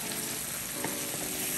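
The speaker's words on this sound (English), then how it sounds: "I'm just gonna let it saute." Shrimp sizzle steadily in a hot pan, a dense continuous frying hiss close up with a faint clink or two and no voices.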